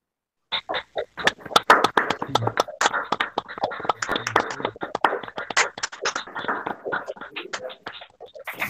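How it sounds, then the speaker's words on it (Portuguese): Scattered, uneven clapping from a small group of participants at the close of a youth discussion programme, dense broadband claps starting after a short silence and continuing steadily, with voices mixed in. "a gente podia finalizar com a salva de palmas para todos aí, né?"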